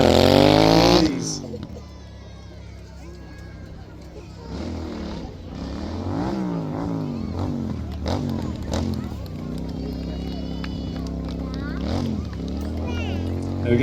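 A stunt rider's motorcycle engine is held at steady high revs during a display by a castle moat in Kent, a loud sustained drone with surging pitch as the rider switches grip, crowd murmur and a commentator's voice over it.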